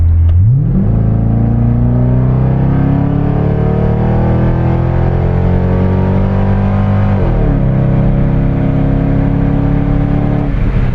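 A Chevrolet Corvette C5 V8 engine revs and accelerates hard, a loud, deep roar climbing steadily in pitch, then dropping briefly for a gear change before pulling up again.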